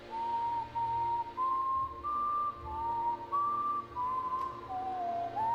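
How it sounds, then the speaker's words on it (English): Someone whistles a rebel tune solo, a clear melodic line of sustained and sliding notes in short phrases over a low background hum. "old Nancy whistled a familiar rebel tune"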